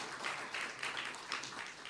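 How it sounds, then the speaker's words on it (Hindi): Faint audience clapping at a spiritual talk, a soft steady patter of many hands at a distance with no voices over it. "तालियां बजाओ भले।"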